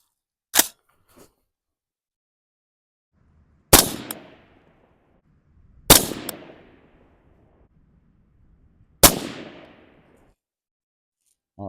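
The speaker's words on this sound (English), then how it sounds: "Let's put 3 rounds on the target that is second from the right and second up from the bottom." Three loud, sharp AR rifle shots at a 50-yard target on an outdoor range, each a sudden crack followed by a short decaying echo, spaced about two to three seconds apart, with one fainter click beforehand.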